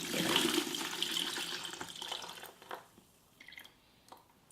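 Coolant draining from a Yamaha YZ250 motorcycle radiator, a steady pouring splash that thins out into a few scattered drips near the end.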